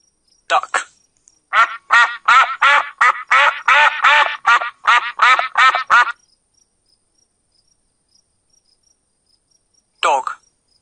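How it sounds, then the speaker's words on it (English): A duck quacks about a dozen times in a quick, bouncing series, loud and close, then goes quiet before one short final call. "Duck."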